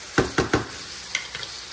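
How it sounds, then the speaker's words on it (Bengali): Chopped onion and green chili fry in hot oil, with three quick scraping stirs up close over a soft, continuous sizzle. "এই তেলটা গরম যখন হয়ে গেল, পেঁয়াজ কুচি আর কাঁচামরিচ দিলাম। এখন ভাজতে থাকি ব্রাউন হওয়া পর্যন্ত।"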